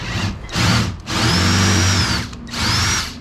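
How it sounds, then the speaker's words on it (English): A power drill bores out rivets while a motor is removed during a repair, three loud bursts of whining drilling with short pauses between them, each rising to a steady high pitch and then stopping. "I'll just drill out these rivets too and pop this motor off"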